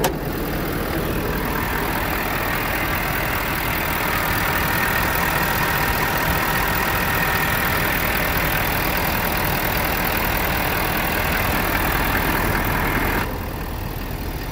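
A 2020 Ford F250 truck engine idles loudly and steadily at close range, a dense continuous rumble that cuts off abruptly near the end.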